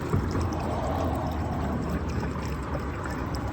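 Water poured from a Mopar bottle into an American car, a steady close splashing rush that runs unbroken and fairly loud throughout.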